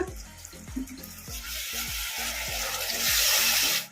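Homemade tomato paste, made from two tomatoes, is stirred into frying masala for paneer butter masala, with a wet sizzle that swells toward the end under regular stirring scrapes.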